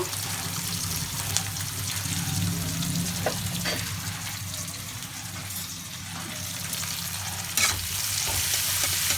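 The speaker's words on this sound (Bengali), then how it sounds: "এইভাবে আমরা আলতো করে গ্যাস কমিয়ে নাড়তে থাকবো ওই রসুন কুচিটা দিয়ে দেব" Chopped garlic and onion fry in a pan over lowered gas while being gently stirred, a steady close sizzle with soft scraping strokes throughout and no speech.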